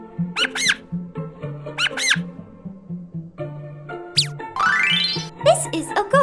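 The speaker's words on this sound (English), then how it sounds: "A mouse squeaks." A mouse squeaks in a few short, high, bright bursts, with a low, steady tone running underneath.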